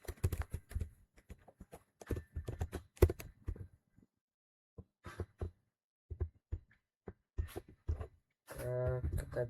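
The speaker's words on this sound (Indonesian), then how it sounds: "Kita bisa ketikkan di kolom pencarian aplikasi" Computer keyboard keys tapped in short irregular bursts nearby, with quiet pauses between groups of clicks and a brief different sound at the end.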